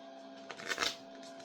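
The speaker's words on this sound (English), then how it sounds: "I was shuffling and 2 cards just flew out while I was shuffling" Tarot cards being shuffled by hand, a quiet brief riffle of card flicks rising and falling over about half a second against a faint steady hum.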